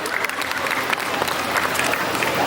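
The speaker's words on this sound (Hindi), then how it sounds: "एक जोरदार ताली अपने लिए बजाइए" A crowd at a Hindi writers festival in Singapore applauding, steady loud clapping from many hands that lasts throughout.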